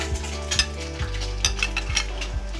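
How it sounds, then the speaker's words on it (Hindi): Eggs and minced meat fry in a pan, giving a steady loud sizzle broken by repeated scraping stirs from a utensil, with no talking. "अब हम लोग अंडे को फ्राई करेंगे।"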